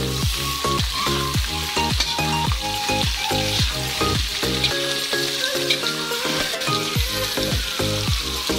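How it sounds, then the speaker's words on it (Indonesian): Carrots and sausage frying in a pan for capcay, loud, close sizzling with rhythmic scraping strokes of a spatula as the vegetables are stirred, and no talking. "kita aduk lagi masukkan wortel"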